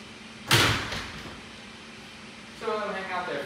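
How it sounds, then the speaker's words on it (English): A door shuts indoors with a single sharp thud, followed by a steady background hum and a voice speaking near the end. "Make sure the door is shut."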